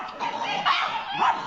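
A pug lets out an odd, strained bark, a run of wheezy yelping cries with two louder bursts over about a second and a half, close and fairly loud.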